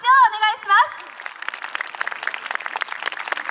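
Crowd applause at a YOSAKOI festival awards ceremony in Takamatsu Central Park, a steady wash of many hands clapping from a distance, following a short stretch of amplified talk from an announcer.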